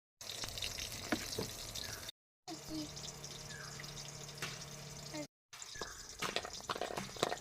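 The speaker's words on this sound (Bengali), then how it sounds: "ওইদিকে বেগুন ভাজা বসিয়ে" Eggplant slices sizzling in a frying pan, a steady close crackle and hiss running throughout with a few brief breaks and small clinks.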